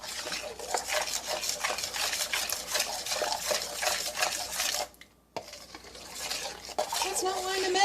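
A utensil stirs vegan banana pancake batter with flour and cinnamon in a bowl, making rhythmic scraping and sloshing strokes up close; it pauses briefly partway through, and a voice is heard faintly.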